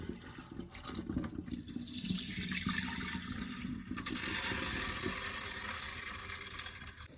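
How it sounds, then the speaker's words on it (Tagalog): Water drains from rice that was washed and soaked overnight for homemade puto. It pours in a steady, continuous flow with light splashing, close and moderately quiet. "Tapos tanggalan mo siya ng tubig ulit."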